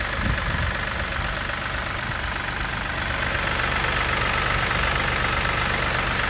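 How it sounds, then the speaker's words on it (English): A BMW 116d 1 Series F20 with a three-cylinder diesel idles close by, its rough, steady clatter and rattle continuous and fairly loud throughout, with no talk. "3-cylinder diesel, as you can see. I don't know if the camera picks that up or not. It's rattling and moving all over the place."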